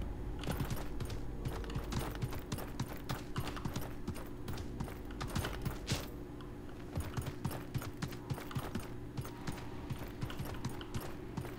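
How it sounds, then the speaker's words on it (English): Horse hooves clatter in a fast, steady clip-clop through the Realm Royale video game, a dense run of sharp hoof strikes lasting throughout, with no voices over it. "I can hop on the horse in no time."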